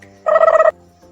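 A chicken squawks once in a short, loud, close burst as it is grabbed, then falls quiet against a low hum.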